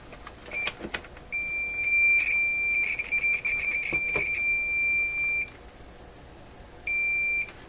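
A high, pure electronic tone from a multimeter continuity test beeping in bursts, one long sustained beep then a shorter one, with light clicks and handling noise, testing a Rogers Majestic RM503 farm radio.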